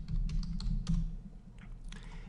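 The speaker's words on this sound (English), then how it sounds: "So I'm going to type the word Pearson" A short word is typed on a computer keyboard, giving a quick cluster of soft key taps over about two seconds, faint and close over a low background hum, with no talking.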